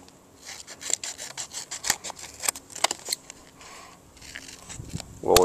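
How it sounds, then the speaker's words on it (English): Scissors cut curved wings into the sides of a plastic soda bottle to make safety goggles, with a string of close, crisp snips and crackles of the plastic. "Just kinda curve cut some wings in the sides."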